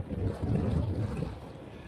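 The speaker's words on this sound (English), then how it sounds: "It's a little bit windy" Gusty wind buffets the microphone on the Laugavegur trail in Iceland's southern highlands, a low, rumbling roar that swells and fades over a couple of seconds.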